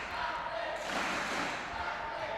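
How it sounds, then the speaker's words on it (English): A crowd roars and shouts at a women's judo final in Oberwart, Austria, a steady distant wash of cheering in a large hall with a commentator's voice over it. "Can hear the crowd screaming"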